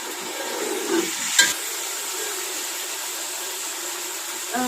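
Onions frying in ghee with spices for a pressure-cooker chicken biryani give a steady, close sizzle throughout, broken by a brief clink of a utensil early on.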